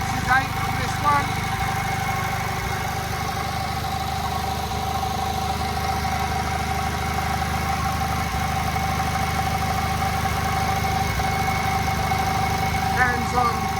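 A JAP 55 TVO engine drives an ex-army generator, giving a steady, loud, unbroken mechanical drone with a constant even hum throughout.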